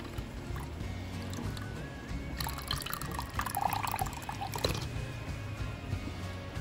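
Milk pours into a cooking pot for vanilla panna cotta, a soft liquid splashing and trickling close by, with a busier burst of pouring in the middle of the stretch.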